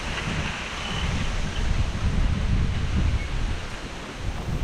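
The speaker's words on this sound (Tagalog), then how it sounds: "ang hampas ng hangin papuntang norte" Strong wind in the aftermath of Typhoon Uwan roars steadily and loudly at close range, a dense continuous rush with gusty swells and no voices.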